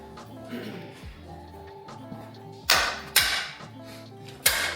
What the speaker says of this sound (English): You gotta give the top mount a knock with the hammer